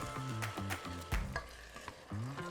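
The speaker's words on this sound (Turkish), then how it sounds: "Ve hepsini birden karıştırıyorum." Lamb meat and tomato paste are stirred and sizzling in a Philips electric pressure cooker, with repeated close scraping strokes of a spoon over a quiet frying hiss.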